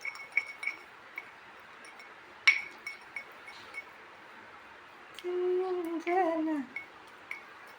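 Hair paste is stirred in a glass bowl, giving light, sparse clinks and taps of a utensil against the glass, quiet and close, with a brief scraping passage near the end.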